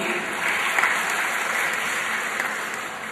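A crowd applauds at a political dialogue event in Surabaya featuring Prabowo Subianto, with dense, loud, even clapping that holds steady for the whole stretch with no voices over it.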